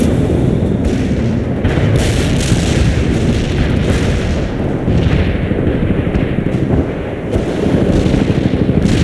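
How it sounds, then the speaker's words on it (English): A war video game artillery barrage rumbles on without pause, with dense, loud booms and blasts overlapping into a continuous roar and occasional sharper cracks standing out. "Our barrage hit the target."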